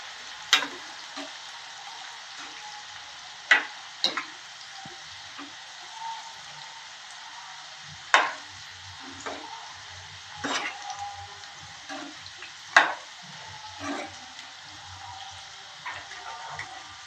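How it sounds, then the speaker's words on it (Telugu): Okra pakodi fries in oil over medium heat, making a soft steady hiss with sharp, irregular pops and spits standing out every second or two. "హైలో పెట్టుకున్న స్టవ్ మీడియంలో పెట్టుకొని వేయించుకోవాలి, ఫ్రై చేసుకోవాలి బాగా ఆయిల్."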